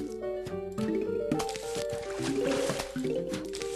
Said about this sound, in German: Und das war halt der Matschkürbis im Einsatz.